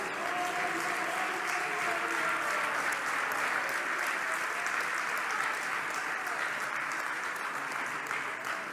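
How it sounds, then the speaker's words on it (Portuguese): Sustained applause from a church congregation during a Christian sermon, a dense, steady wash of many hands clapping at even loudness throughout with no break. "Vocês podem aplaudir a Jesus Cristo."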